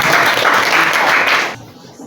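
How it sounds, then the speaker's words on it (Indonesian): An audience at an Indonesian talk on ulama spreading Islam bursts into loud, dense applause that holds steadily for about a second and a half, then cuts off abruptly into quiet room sound. "berikan tepuk tangan untuk"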